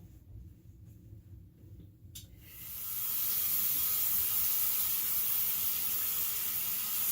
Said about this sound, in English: I'm gonna rinse this out, guys, in the back.